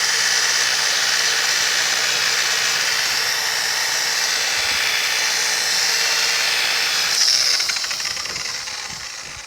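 A polishing wheel on a power tool runs continuously against the body of a 1950 Chevy truck, a steady high whirring hiss held close and loud, easing and shifting slightly near the end.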